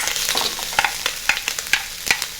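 Pre-cooked cold rice stir-frying in a pan for Chinese fried rice, with a steady close sizzle and repeated scraping, tossing clatters roughly every half second.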